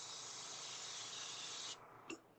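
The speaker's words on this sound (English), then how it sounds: "That was a nice little spray." An aerosol spray can of Grex Opaque Carbon Black paint hisses steadily onto an RC touring car body, a close, continuous spray that cuts off abruptly, followed by one brief short puff.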